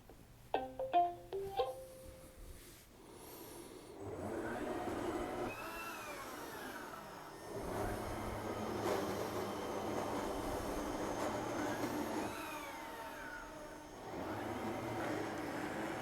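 An iRobot Roomba S9+ robot vacuum running after its cleaning head module is replaced, a few startup beeps and then a steady whirring hum with rising and falling tonal sweeps as it moves, fairly quiet with no talking.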